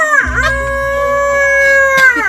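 A man imitates a rooster crowing, one loud, close, sustained crow with a rising start and a long held tone that falls off at the end, his voice the only sound.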